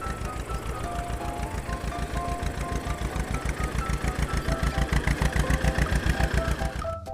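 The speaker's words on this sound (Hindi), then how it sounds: "और उस ट्रैक्टर को थोड़ी दूर ले गया।" A tractor engine chugs loudly and close as it drives off, a fast, steady thumping beat with a faint higher whine above it, ending in a short noisy burst.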